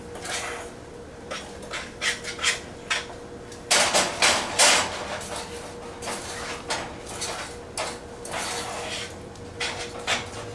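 A spoon scrapes and knocks through thick blondie brownie batter in a bowl, giving irregular scraping strokes and clacks that build to heavier bursts midway, with no talking.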